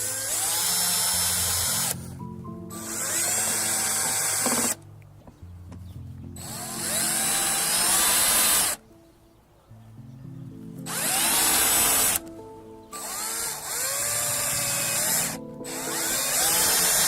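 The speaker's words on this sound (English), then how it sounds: "Now I'm only screwing these screws in about halfway to begin with." A power drill driving screws halfway into a Ring Video Doorbell 2 plastic mount, in several whirring bursts of a few seconds each with the motor pitch rising and falling, separated by short quiet pauses.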